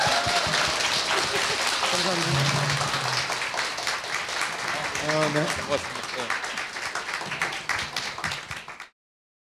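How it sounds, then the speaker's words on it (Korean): An audience applauds at the close of a talk-show taping: a dense, sustained patter of many hands that runs under spoken thanks, then cuts off abruptly. "박수 부탁드립니다."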